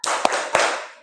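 A second-grade primary school class claps in a chant, two sharp hand claps standing out over a loud, bright wash of noise.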